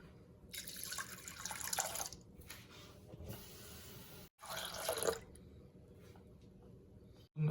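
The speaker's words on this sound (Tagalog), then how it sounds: "Add 2 cups of water" Water pours steadily into Filipino hotcake batter made with beaten egg, a running, splashing flow in two long stretches separated by brief pauses, with no talking.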